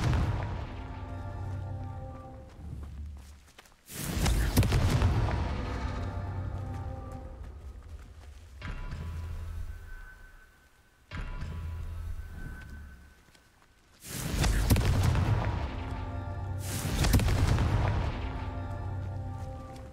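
Confringo fire spell explosions in the Hogwarts Legacy video game burst repeatedly, loud booming blasts in clusters separated by quieter ringing game ambience and tones.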